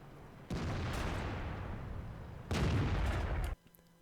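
Tank gunfire in World of Tanks with a Löwe heavy tank: two heavy booming blasts, each followed by a long rolling rumble, the second louder and cut off abruptly, with no talk.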